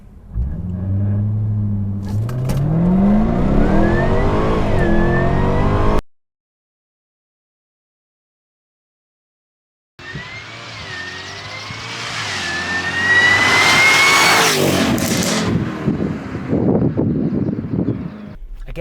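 A tuned Jaguar F-Type SVR launches hard on a windy 0 to 60 run, its engine note climbing loudly through the gears, cutting out, then returning with a rising, roaring pull under heavy wind buffeting.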